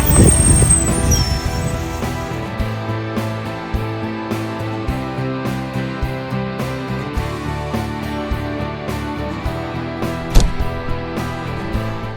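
A Porsche 924 race car's engine drones steadily and loudly, with a strong harmonic hum and regular rhythmic pulses throughout, heard close and alone.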